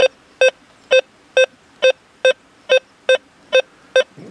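A Deus 2 metal detector, on a fast mono program at 17.6 kHz, gives its audio response over a gold ring near a metal pole: ten short, evenly spaced tonal beeps, loud and clean, with no talk.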